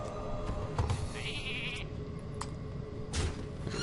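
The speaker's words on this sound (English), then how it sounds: "And that's a sheep." A sheep bleats in the Hearthstone video game, a couple of short wavering bleats over a busy bed of game sounds and music, with chimes and effects around them and no talk.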